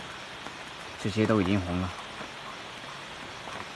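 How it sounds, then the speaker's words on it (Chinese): Steady rain falls and patters on surfaces high up outdoors where fruit is being picked. The soft, even hiss fills the whole stretch, and a person speaks briefly over it. "又下雨了"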